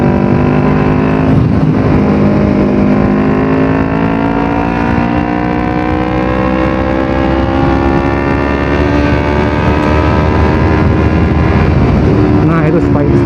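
A Kawasaki Ninja 250 FI two-cylinder motorcycle engine drones loud and close while riding, its steady harmonic hum drifting slightly in pitch with throttle and speed and holding without a break.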